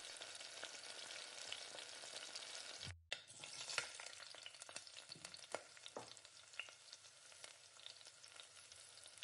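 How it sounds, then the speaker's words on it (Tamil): Spiced masala sizzles and fries steadily in hot oil for chicken biryani, a dense continuous crackle with a brief pause and occasional stirring scrapes. "அப்படியே எண்ணெயிலே நல்லா இந்த மசாலாவையும் எண்ணெயிலே நல்லா வதக்கி விடுங்க."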